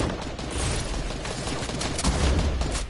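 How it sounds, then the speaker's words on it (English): Fortnite gunfire crackles in a dense, continuous burst of rapid shots, loud and close, with no voices over it. "Yeah, they're shooting at me."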